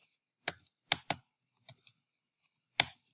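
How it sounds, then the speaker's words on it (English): Sparse, crisp clicks from a computer keyboard being typed on, in a few separate quick bursts with pauses between, close and quiet in an otherwise silent room. "Sorry, I can't type on this keyboard."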